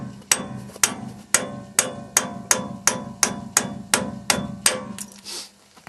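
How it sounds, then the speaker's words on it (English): A hammer strikes a wheel stud on a Dodge Dana 70 axle about a dozen times in a steady rhythm, loud ringing metallic blows close by, ending as the stud comes free. "So I'm just going to remove this stud now."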